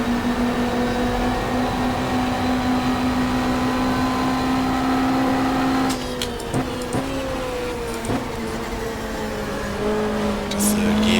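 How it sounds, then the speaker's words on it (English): A Ford Mondeo super touring race car from the 1995 Australian Super Touring Championship at Lakeside, recreated in the GTR2 racing game, holds a loud, steady engine drone with a brief dip and sharp gear-shift blips toward the end. "Ford Mondeo for Ross Palmer Motorsport"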